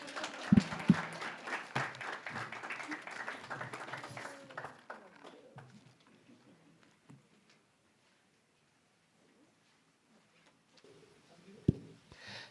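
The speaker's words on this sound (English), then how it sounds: "Please clap for me." Conference audience applauding after a talk on refugees at a forced migration conference, a broad wash of clapping that is loudest at the start and fades to near silence by the middle, with a couple of sharp knocks.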